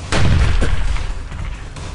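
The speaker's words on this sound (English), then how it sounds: "I'm hearing gunshots" A couple of sharp air rifle bangs ring out, the first loud and booming, followed by rumbling echo and a quieter crack; no voices are heard.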